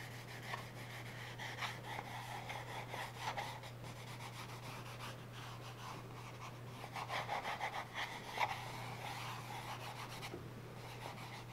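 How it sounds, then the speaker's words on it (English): A fingertip rubs paper pressed onto shaving cream in a printmaking art project, a faint, steady soft scraping and brushing texture, close up with a low hum underneath and no speech. "I'm going to place the paper really, really gently on my shaving cream, and I'm just going to press down with my little finger and rub it around."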